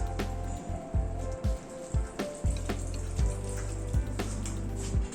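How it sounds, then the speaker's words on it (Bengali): Boiled noodles rinsed under normal tap water in a strainer, a continuous splashing water stream close by, with a low hum underneath and several sharp knocks and clatters against the strainer, no talk. "নর্মাল ওয়াটার দিয়ে নুডলসটাকে একটু ধুয়ে নিচ্ছি"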